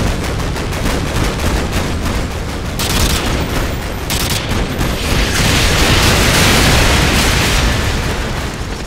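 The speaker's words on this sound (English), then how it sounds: "Artillery inbound." Artillery strike explosions from the video game Call of Duty: Modern Warfare 2, a dense, loud, continuous barrage of booms and blasts with crackling bursts that swell and persist throughout.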